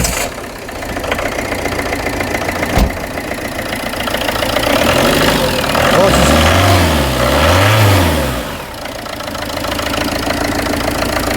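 A diesel Citroen Berlingo van engine cranks and catches, then settles into a steady, close idle with a low rumble that swells briefly before easing back.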